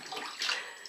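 Water splashes and pours steadily as a kitten is rinsed in a bath, a continuous close wash of running water with a brief louder surge midway.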